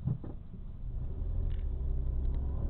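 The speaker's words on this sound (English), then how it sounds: "watch me drive the car around town" A car engine rumbles low and steady from inside the cabin while driving around town in Eugene, Oregon, the drone rising slightly and holding level, with no talking.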